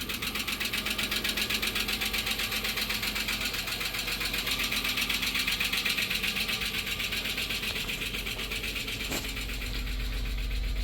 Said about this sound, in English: It's making a loud ticky noise, but it's got oil pressure